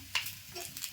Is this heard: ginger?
yes